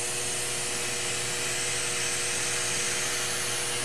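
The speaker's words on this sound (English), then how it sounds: "release the vacuum by turning this little valve" Steady broadband hiss of air rushing in as the vacuum is released through a small valve on a wine filtering setup, continuous and fairly loud with a faint underlying hum throughout.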